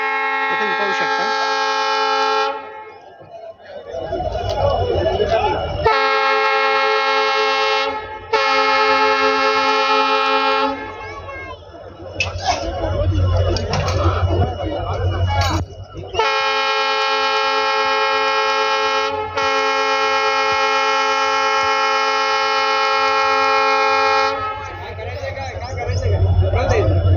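A train on the newly opened Nagar to Beed line passes before a gathered crowd, sounding long, loud, harmonic horn blasts again and again, with rumbling and crowd chatter between the blasts.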